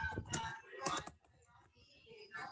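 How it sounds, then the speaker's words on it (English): Quiet clicking of keys on a computer keyboard comes through an online class call in short uneven bursts, with faint murmuring around it. "They're typing in their answers now."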